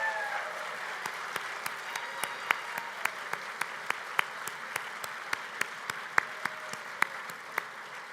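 Sustained applause from attendees at the AMS annual meeting award ceremony as AMS staff stand to be recognised, a dense steady wash of clapping with scattered sharper individual claps standing out throughout.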